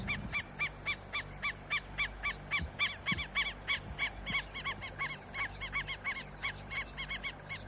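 Two lapwings rise into the air and attack an elephant herd near their nest, giving a rapid, unbroken series of sharp, rhythmic calls, loud and close, with faint low rumbles underneath.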